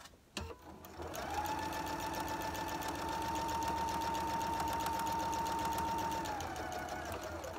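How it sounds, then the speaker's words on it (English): A sewing machine runs steadily, stitching a straight seam on quilt triangles; the close motor hum and rapid needle chatter hold a constant pace for several seconds, then slow to a stop. "you're going to go ahead and sew straight through, keeping your edges nice and even"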